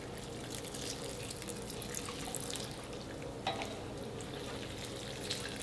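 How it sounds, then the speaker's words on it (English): Filtered water pours steadily onto a monstera plant in its pot, a soft continuous trickle and splash heard close and fairly quiet, with a couple of faint drips standing out. "We'll give it a drink of water."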